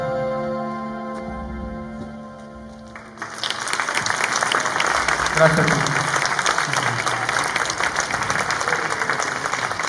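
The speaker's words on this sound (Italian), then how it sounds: "aumentarlo ancora un pochino questo applauso" An audience at an emerging-music festival at Villa Clementi in Malo bursts into sustained applause after a music passage ends, dense clapping that continues for several seconds, with a voice speaking briefly over it.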